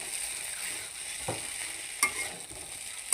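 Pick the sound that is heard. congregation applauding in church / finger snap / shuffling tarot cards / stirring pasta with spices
stirring pasta with spices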